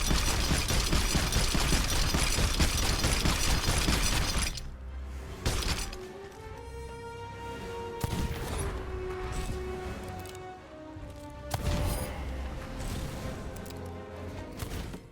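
Pirate video game combat: a loud burst of rapid gunfire opens the clip and ends sharply, followed by scattered crashes, thuds and a keg blast among game effects and tonal music-like sounds.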